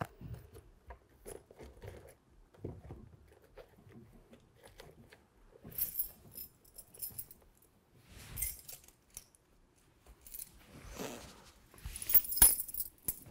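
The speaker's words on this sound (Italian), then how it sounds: "Sono le chiavi del ristorante." Restaurant keys jangle in a quiet indoor scene, a few scattered metallic rattles and clinks coming in short bursts, louder toward the end, with no talking.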